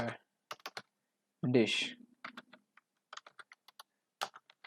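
Computer keyboard typing, heard as scattered sharp key clicks in short clusters, fairly faint, with a brief spoken word partway through.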